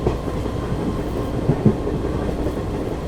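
A passenger train runs on the Srinagar to Banihal line in snowy Kashmir, its steady rumble and low wheel noise continuous throughout with a couple of faint knocks near the middle, no voices.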